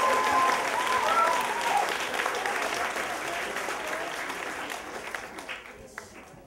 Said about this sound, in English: keep your applause going for Angela